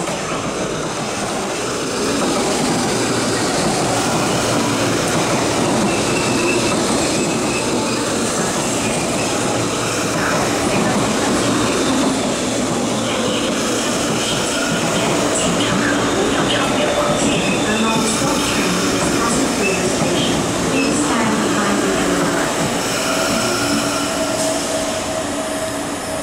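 A non-stop MTR diesel locomotive 59 hauling 25T carriages runs through Tai Wai station, a loud continuous roar of engine and wheels on track that fills the whole stretch, with station announcements beneath it.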